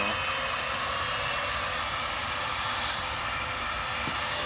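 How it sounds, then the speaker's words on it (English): Steady, loud jet engine whine and rush from a TUI Boeing Dreamliner taxiing at Manchester Airport, continuous and even throughout with no talking. "The TUI Dreamliner."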